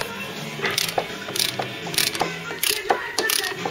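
Socket ratchet clicking in short bursts while tightening the axle plate on a Ford Cortina GXL under rebuild, the repeated pawl clicks close and fairly loud with a few metallic knocks between strokes.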